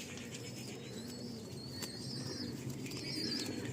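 A restless male Racing Homer pigeon fluttering in a handler's hand, with soft wing flaps and scuffling mixed with faint bird sounds over a steady low background, no talking.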